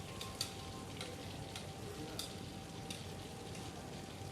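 Tofu pieces deep frying in hot oil for agedashi tofu give off a steady, dense sizzle with faint crackles scattered through it. It is close and even, with no voices.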